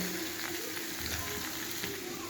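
Bitter gourd frying lightly in a pan gives a steady, soft sizzle with faint scraping ticks, continuous and close.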